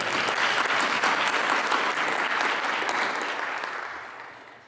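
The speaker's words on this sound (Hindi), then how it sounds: "यीशु मसीह के लिए जोरदार ताली बजाएं।" A church congregation at a Thanksgiving service applauds loudly, a dense, steady wash of clapping from many hands that holds strong and then slowly fades.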